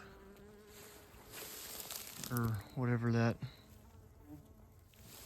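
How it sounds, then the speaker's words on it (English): Wasp buzzing around milkweed flowers outdoors in summer: a faint, thin insect buzz under steady background noise, with a person talking briefly over it. "oh, there's a wasp."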